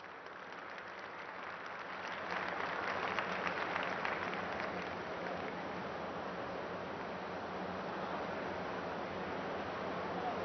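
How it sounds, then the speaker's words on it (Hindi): A large audience applauds at a speech event where Prime Minister Modi launches the Namo Green Rail. The dense, continuous clapping swells after a quieter start and holds steady, sounding somewhat distant and muffled. "एक बार पुनः तालियों के जय घोष से इन अलौकिक पलों का स्वागत करें"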